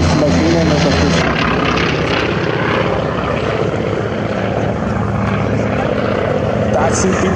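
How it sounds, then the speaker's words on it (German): B-25 Mitchell bomber with radial piston engines passing overhead, a loud continuous roaring drone with a dense rough propeller rumble that stays strong throughout the clip, heard from the ground at fairly close range. "Das sind die Klänge des Sternmotors"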